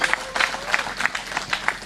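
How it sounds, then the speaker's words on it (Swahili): A crowd at a Kenyan political rally claps in a steady patter of applause, moderately loud and fairly close, over just under two seconds. "Pigieni baba makofi mazuri."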